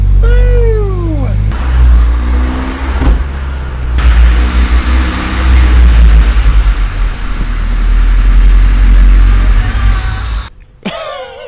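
A Honda D16A engine in a Civic EK project car runs at its first start-up, a loud steady rumble that surges and varies in level before cutting out near the end, with brief whoops and voices over it.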